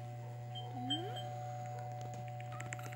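A doorbell chime in the Roblox game Brookhaven rings out at a moderate level over a steady background hum, with a rising and falling tone and a few faint clicks afterward; nobody speaks.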